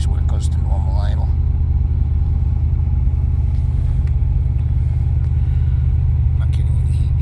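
A Porsche 951 fitted with an LS V8 idles steadily through a cold-start warm-up at 28 degrees, with a deep, loud, continuous low rumble and a faint voice briefly over it.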